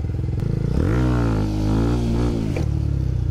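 A motorcycle engine revving hard during a wheelie, close and loud, the pitch climbing and holding high for a couple of seconds before dropping back to a throbbing idle.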